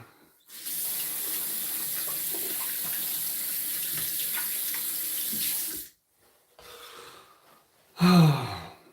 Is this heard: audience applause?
no